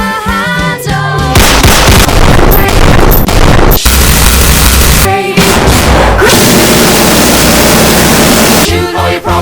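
Loud gunshot and machine gun sound effects layered over a song: dense bursts of rapid automatic fire and heavy booms fill most of the clip, with only brief gaps where the music shows through.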